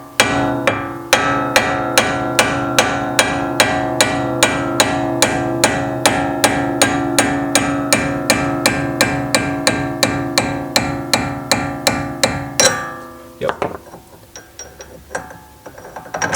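Hammer striking a wheel stud on the front wheel bearing hub of a 2015+ S550 Mustang, about forty sharp, evenly spaced metallic whacks in quick succession, loud and close, then a clatter and quieter handling noises.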